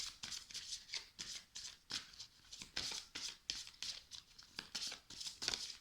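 Tarot cards shuffled and drawn by hand during a reading, a quick run of crisp papery riffles and slaps in bursts that repeat for several seconds, close and fairly quiet, with no talking.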